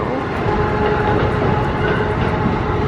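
Metro train running at a station, a steady loud rumble of rolling wagons with a broad, constant roar and a faint tonal hum throughout, no clear horn.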